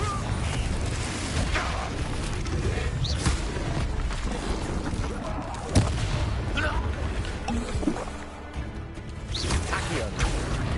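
Confringo fire-blast spells in the video game Hogwarts Legacy, with repeated explosive booms and crackling impacts layered over dense combat noise and a steady game soundtrack, loud and continuous, with a voice speaking over the action.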